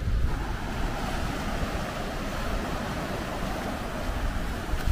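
Strong ocean waves roll onto the Jeju Island seashore as a steady, loud, broadband roar of surf mixed with wind noise on the microphone, with no speech.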